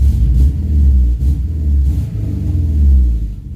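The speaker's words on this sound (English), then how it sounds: "Let's see how the exhaust sounds real quick." A 1999 second-generation Subaru Legacy GT engine revs with a deep, loud exhaust rumble, rising and falling in a couple of pulses.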